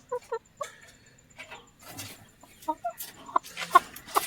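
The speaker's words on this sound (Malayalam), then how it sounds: "ഇതാണ് എൻ്റെ കോഴികൾ." Chickens in a coop cluck in short, scattered bursts close by, with a few sharper, louder calls toward the end and no talking.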